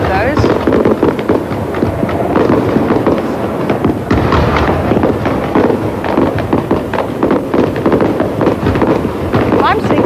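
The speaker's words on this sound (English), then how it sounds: "There's the daylight fireworks." Daylight fireworks burst over the Expo 88 opening ceremony in a dense run of booms and crackles that lasts several seconds. Crowd noise and wind rumble run underneath, and people talk over the bursts.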